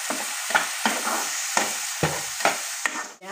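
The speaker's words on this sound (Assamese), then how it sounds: "জিৰা গুড়ি, ধনিয়া গুড়ি, জলকীয়া গুড়ি আৰু হালধি একেলগে দি দিছোঁ। এতিয়া অকণ ভালকৈ ভাজি ল'ম।" Ground cumin, coriander, chilli and turmeric fry in a pan, stirred in a rhythm of quick scraping strokes about every half second over a soft sizzle.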